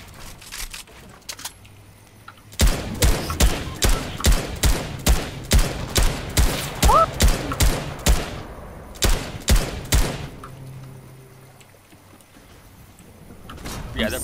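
Sharp, loud gunshots from Fortnite ring out in a rapid, irregular volley lasting several seconds, with brief pauses between bursts, then fade to quiet background.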